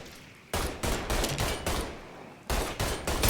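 Heavy bursts of automatic gunfire in a Mafia III Definitive Edition shootout, loud and close, with a brief lull before the firing resumes.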